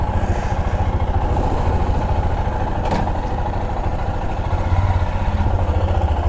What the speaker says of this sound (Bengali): এই বাইকটা যে বার করলাম